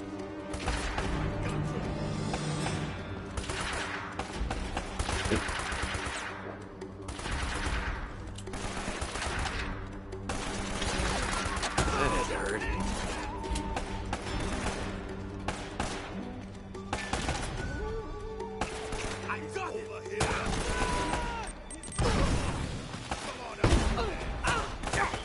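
Constant gunfire fills a firefight in the video game Uncharted, with dense bursts of automatic fire, single shots and crashing impacts running loud and unbroken, while voices talk at times underneath.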